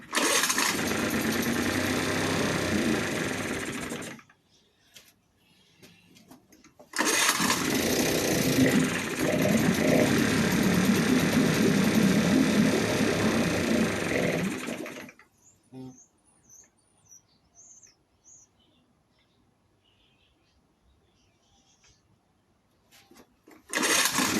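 Small Yamaha Suzuki 2.5hp outboard motor, just repaired after a running problem, revving in two loud sustained bursts with a pause between, then cutting out to near silence with faint birdsong before restarting at the end.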